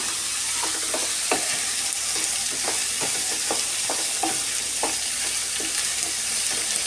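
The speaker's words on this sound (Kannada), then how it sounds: "ಸ್ವಲ್ಪ ಒಂದು ಅರ್ಧ ಭಾಗದಷ್ಟು ಫ್ರೈ ಮಾಡಿಕೊಂಡ್ರೆ ಆಯಿತು ಸ್ವಲ್ಪ ಕರಿಬೇವಿನ ಎಲೆಯನ್ನು ಸೇರಿಸ್ಕೊಳ್ಳೋಣ" Curry leaves frying in a small amount of oil while ambode batter is prepared, a steady close sizzle broken by irregular scraping stirs throughout, with no talking.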